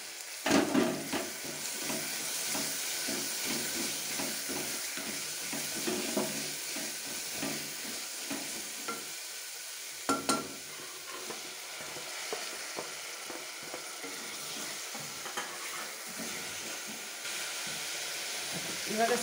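Green chillies and turmeric powder frying in a pan for brinjal gojju, a steady close sizzle and hiss with occasional stirring scrapes that continue throughout.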